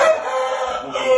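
A fighting rooster crows loudly and close by in one short, strained call, with no voices around it.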